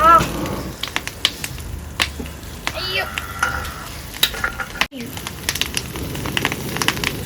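Mango fish fry sizzling in hot oil in a pan, a steady crackling hiss with sharp popping snaps scattered throughout, close up, while voices talk now and then in the background.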